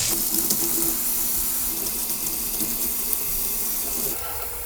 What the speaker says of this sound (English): Now it's time to rinse in some hot water.